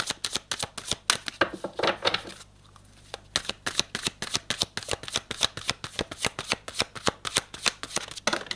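Tarot cards are shuffled in a fast, steady run of crisp riffling flicks, close and clear, with one short pause early on and no speech.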